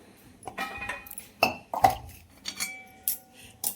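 A metal kadhai that has been roasting peanuts is moved off a gas stove, giving a few close clanks and clinks of metal on metal at an irregular pace, with no talk.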